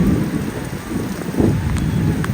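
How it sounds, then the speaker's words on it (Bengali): Rain pours steadily and close, an unbroken rushing patter on surfaces with no voices over it. "বৃষ্টি হচ্ছে"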